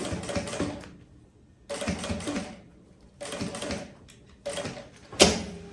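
A sewing machine backstitches through quilted puffer fabric for a tote bag in four short, close mechanical bursts about a second each, with a faint sharp clack at the end.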